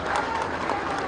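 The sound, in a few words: crowd applause welcoming new party members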